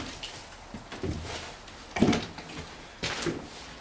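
A storage unit door is opened in darkness while recovering a VW bus engine, giving a few soft thunks and a scraping clatter near 2 seconds and another near 3 seconds, with faint background noise.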